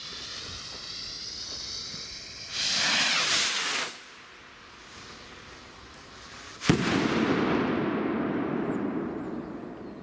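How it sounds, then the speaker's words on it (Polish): A Doom Boom firework rocket ignites with a bright fizzing hiss, goes quiet, then gives a sharp loud bang followed by a long crackling, rushing tail outdoors, with no voices. "Lecimy kochani z testem. Rakietka Doom Boom."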